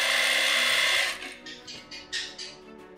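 A sewing machine stitches velvet for a kaftan party dress with a steady whirring run at close range, then slows into a few short separate bursts.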